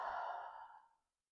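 Someone releases a slow, deep breath during a yoga stretch, a soft, close airy exhale that fades out over about a second, with no talking.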